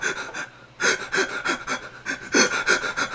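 A voice imitates crying with panting, gasping breaths, a burst of heaving breaths, a short pause, then repeated breathy gasps at close range.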